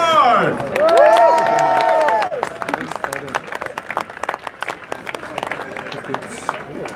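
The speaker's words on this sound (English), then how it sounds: "So come on, put your hands together and give our Warriors a cheer!" An audience at a martial arts fight event claps and cheers for the fighters, a loud burst of crowd noise that breaks into scattered clapping and chatter while an announcer speaks over it.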